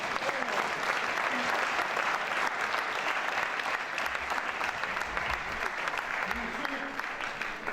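Sustained audience applause at an induction ceremony of the Académie Alphonse Allais in the Grenier à Sel hall in Honfleur, a thick, even roar of many hands clapping throughout, with faint voices beneath.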